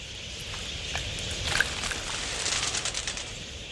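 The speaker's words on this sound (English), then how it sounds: "Flock pigeons share the budgerigar's roving and social nature." A flock of pigeons gathers at an outback waterhole in Australia, their soft wing flutters and faint calls spread through a steady wash of outdoor noise, none of it standing out sharply.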